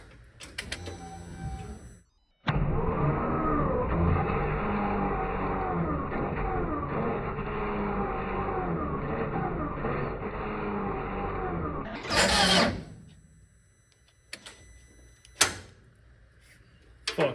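A 1.8T engine in a brass Mini is cranked over, a loud steady rhythmic whirring chug for about ten seconds, then a rising whine and a few sharp clicks before quiet.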